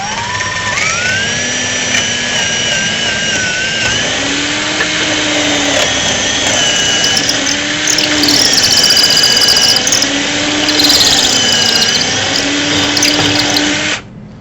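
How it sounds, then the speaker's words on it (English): A power drill bores a hole in wood for a junction box assembly, its motor whining loud and steady close by for about fourteen seconds, with rhythmic low pulses as the bit cuts in and backs out. "So I'm going to go ahead and I'm going to drill this hole."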